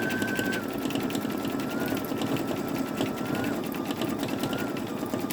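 Close up and continuous, an older Babylock Esante embroidery machine chatters through its stitching with dense rapid needle strokes and a faint rising motor whine.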